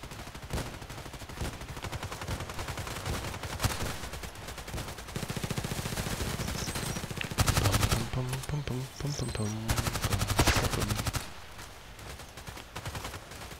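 Rapid automatic gunfire from an online first-person shooter, Contract Wars, crackles in dense bursts through the whole stretch, with heavier close volleys in the middle and a voice speaking intermittently beneath the shooting.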